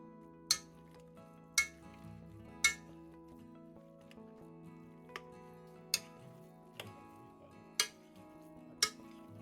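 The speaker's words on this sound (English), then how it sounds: "Then we smash the potatoes to smithereens." Cooked potatoes being mashed in a pot, heard as sharp metallic clinks of the masher striking the pot at a steady, roughly one-second pace over soft background music.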